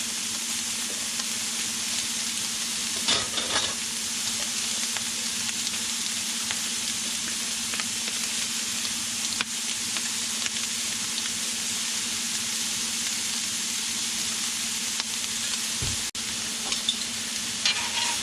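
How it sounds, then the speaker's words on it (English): Sliced steak fries for Philly cheesesteak with a continuous, even sizzle, broken by occasional clanks and scrapes from the pan and spatula. "This steak we're just going to let sit for a minute before we start to flip and mix it around"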